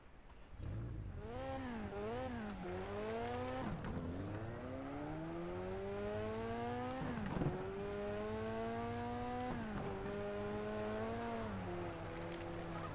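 A car engine in the driving video game Next Car Game, revving up and down through repeated gear-shift sweeps, a continuous close whining drone with rising pitch between shifts, no talk.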